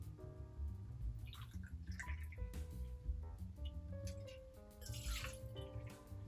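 Gin pours in a thin, steady trickle into a metal cocktail shaking tin, with a faint ringing resonance as the liquid hits the metal. The sound is quiet and close, lasting several seconds, with no talk.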